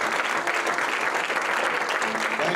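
A church congregation claps their hands in praise, a dense, continuous burst of many hands clapping together at close range, with no talk over it.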